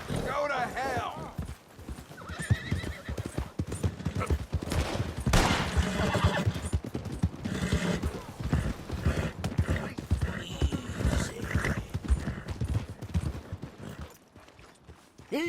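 A horse gallops with steady clip-clop hoofbeats and whinnies in Red Dead Redemption 2, mixed with scattered gunfire and voices speaking over the ride.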